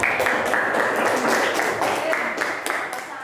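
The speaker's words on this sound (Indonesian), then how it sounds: "Beri aplaus kepada kelompok 3" Applause for a student presentation group in a classroom: steady, continuous clapping from a small crowd throughout, fairly close and even in level.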